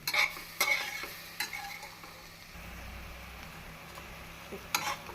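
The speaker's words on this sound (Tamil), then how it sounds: "நாம் அரிசியை சேர்த்து நன்றாக மீல் மேக்கருடன் கலக்க வேண்டும்" Soaked rice and meal maker chunks are stirred with masala in a pan for biryani, with a few sharp scrapes and clanks, a soft sizzle between them and a low rumble in the middle; no one talks.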